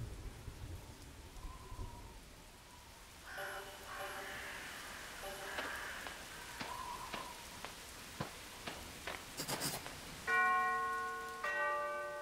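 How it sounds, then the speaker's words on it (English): A mansion bell rings in the Arkham Horror PC game, its clear tones sounding in a couple of separate peals over a steady wash of rain and rolling thunder. "I'd better ring the bell."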